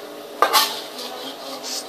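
A spoon stirs seasonings of pepper and sugar into squid stuffed with tofu in yellow spice sauce in a cooking pan, giving a sharp scrape and clink and then softer scraping strokes, close and fairly quiet, with no talk.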